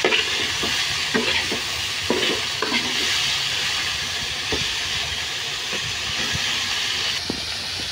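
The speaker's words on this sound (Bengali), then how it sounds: "প্রথমে নুন হলুদ দিয়ে পটলগুলো ভেজে নেব" Pointed gourd pieces frying in a pan with salt and turmeric give a steady, loud sizzle, broken by regular scraping clicks from stirring. No one speaks.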